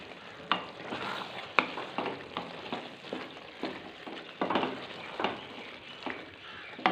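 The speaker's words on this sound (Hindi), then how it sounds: "इसको करेंगे अच्छे से मिक्स।" Kasuri methi being stirred into capsicum and potatoes frying in a pan, a steady close sizzle punctuated by regular sharp scrapes and clanks of the spoon roughly every half second.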